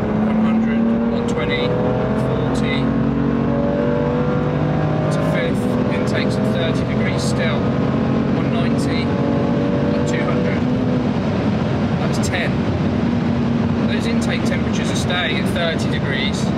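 A BMW M2 Competition track car accelerates hard during a timed run. The engine note climbs repeatedly as it works through the gears, loud and continuous throughout.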